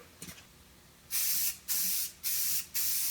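An aerosol can sprays acid etch primer onto a performance muffler in four hissing bursts of about half a second each, loud and close, after a few faint clicks.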